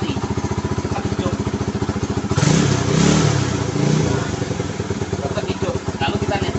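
A motorcycle engine idles steadily with an even rhythmic thrum as it is put into gear with the clutch pulled, rising briefly louder midway, under a man's speech.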